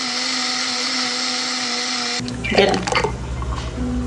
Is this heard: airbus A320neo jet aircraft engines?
no